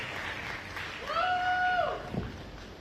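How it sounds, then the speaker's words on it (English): Audience applause for panelists at the Voters for Tomorrow Summit in Washington D.C., moderate clapping from a crowd with a sustained whistle-like tone rising briefly in the middle before the clapping tapers. "Can we have a round of applause for our amazing panelists?"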